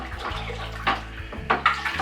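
Liquid sloshes and splashes in a container as homebrew beer wort with yeast and sugar is stirred, a few wet swirls and gurgles up close with no talking.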